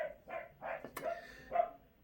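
A dog barks several times in quick, uneven bursts while romping around a garden in the morning, fairly close and moderately loud with short pauses between barks.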